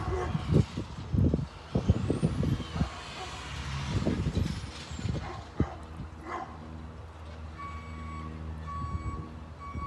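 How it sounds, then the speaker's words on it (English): A garbage truck rolls down a residential street, its engine rumble and reversing beeps carrying from a moderate distance, with a dog barking and brief low voices nearby. "here comes the truck"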